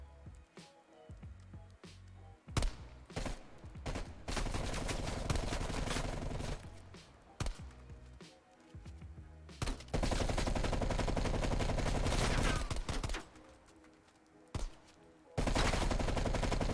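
Gunfire in Call of Duty Cold War, loud sustained automatic bursts broken by short pauses, with a few single shots and impacts.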